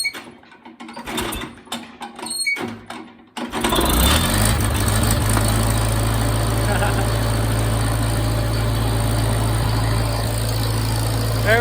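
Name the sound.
Farmall Cub vintage tractor engine starting and running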